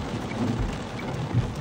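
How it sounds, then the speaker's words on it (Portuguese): Steady rain falls over a town square in Areia, Brazil, a dense broadband patter with soft low rumbles underneath, continuous and moderately loud throughout with no talking. "mas com essa chuva aí."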